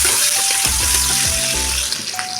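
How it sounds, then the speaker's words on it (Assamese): Onions fry on low gas in a pan until reddish, giving a constant bright sizzle with faint stirring. A sustained tonal melody plays over the frying, and no one speaks. "এইখিনি অকণমান দেৰি মই ৰঙচুৱা হোৱালৈকে ভাজি ল'ম"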